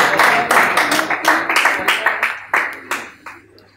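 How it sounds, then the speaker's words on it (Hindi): Audience at a poetry gathering clapping, a brisk close round of hand claps that thins out and fades toward the end. "तालियां होनी चाहिए यार।"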